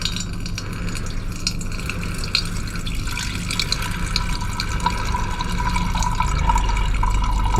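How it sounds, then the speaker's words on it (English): A steady stream of solution is poured off a gold-recovery container, splashing and trickling continuously at close range with small glassy drips, growing slightly fuller toward the end. "So I'm going to pour off the solution"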